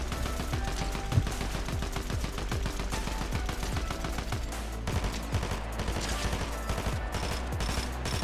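Rapid, steady automatic gunfire rattles continuously in Fortnite, a dense stream of close, loud shots with brief changes in rhythm and no pause.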